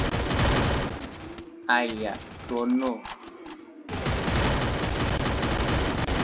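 Dense, continuous bursts of automatic gunfire from a Kamen Rider–themed shooter video game fill the clip, cutting out for about two seconds while someone talks, then resuming at full loudness.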